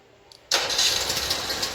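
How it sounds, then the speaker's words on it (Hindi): Petrol generator engine self-starting from a LiFePO4 4S battery pack, a quiet lead-in followed by an abrupt loud catch into a steady, close running roar. "ये हमारा जनरेटर स्टार्ट हो गया।"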